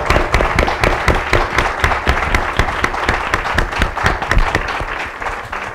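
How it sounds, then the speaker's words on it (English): Audience claps for a congressman at an election event, loud close clapping with distinct individual claps, sustained evenly throughout. "can we just give a round of applause to our congressman?"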